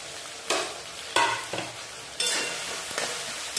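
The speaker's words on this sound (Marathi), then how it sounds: "मटार टाकते, गाजर टाकते, बटाटा टाकून घेते" Peas, carrots and potatoes fry in hot oil as they are stirred, with a few loud scraping stirs over a continuous close sizzle and no talking.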